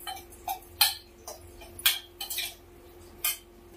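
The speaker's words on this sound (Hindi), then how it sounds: "जो काचर काटे हैं इसी के अंदर इनको अच्छे से मिक्स कर लेंगे।" A spoon mixes chopped kachri with red chilli and salt in a metal dish, producing crisp, irregular clinks and scrapes, several sharp knocks spaced over a few seconds against a quiet background.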